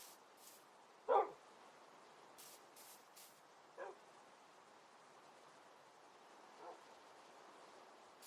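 Dogs in the game Minecraft give three short, separate barks spaced a few seconds apart, fairly quiet over faint background hiss, the first one loudest.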